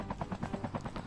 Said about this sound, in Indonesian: Jadi kita pakai helikopter aja mah bro ya.